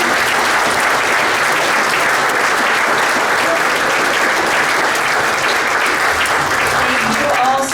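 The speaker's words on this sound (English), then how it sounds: "how about a final round of applause for Molly Morgan?" Loud, sustained audience applause for Molly Morgan closing a university athletics hall of fame panel, a thick continuous roar of many clapping hands with crowd noise mixed in.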